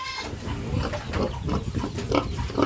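A pig grunts in a continuous series of close, rough, low snorts and oinks, loud and irregular throughout.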